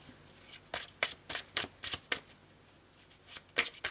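Tarot cards shuffled by hand in a series of crisp, riffling bursts, close and clear with short pauses between them, during a Taurus love reading.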